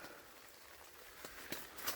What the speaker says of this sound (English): And it's starting to rain again.